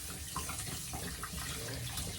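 Raw, freshly cut chicken being washed under a running tap in a home kitchen sink, a steady close stream of splashing water throughout with no talk.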